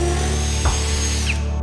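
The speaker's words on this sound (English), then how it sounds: "and then drill the holes." A power drill bores holes into a garage wall, running as a steady, loud, continuous whine close by with a brief bump in the middle where the bit bites.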